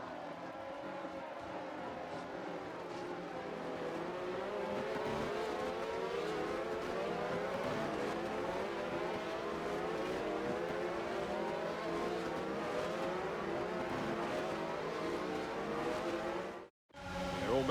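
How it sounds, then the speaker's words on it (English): Race cars droning loudly in the F1 22 video game during a formation lap, a dense continuous engine roar with shifting revs across many cars, steady throughout before a brief dropout near the end. "The formation lap gets underway and every driver will be looking to settle in for the race ahead"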